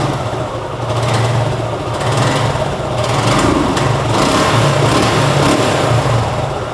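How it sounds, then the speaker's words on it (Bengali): A Suzuki Gixxer motorcycle in Monotone Black, with about 4000 km on it, idles steadily close by, its engine note a continuous even hum with mild swells and no talking over it. "এবার চেষ্টা করব বাইকটা স্টার্ট করে আপনাদেরকে ইঞ্জিন সাউন্ডটা শোনানোর।"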